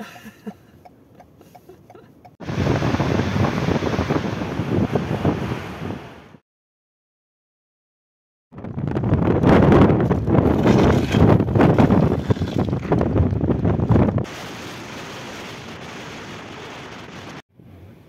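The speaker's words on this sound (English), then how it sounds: "It's quite windy." Strong Icelandic wind buffets the microphone in loud roaring gusts, cutting out briefly before returning, with a steadier rush toward the end.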